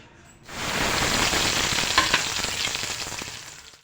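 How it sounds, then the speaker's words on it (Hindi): Ridge gourd, potato and onion sizzle loudly in hot oil in a pan as they hit it, a sudden steady crackling hiss with occasional stirring scrapes, no voices. "आज मैं तोरी आलू प्याज की सब्ज़ी बना रही हूँ"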